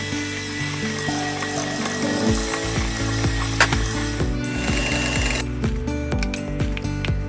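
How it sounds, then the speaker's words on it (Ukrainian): An electric hand mixer beats sugar into the batter for a flourless sponge roll. Its motor drones steadily close by, with clattering and rattling as the beaters knock against the bowl. "додаємо цукор та все гарно збиваємо в однорідну масу міксером"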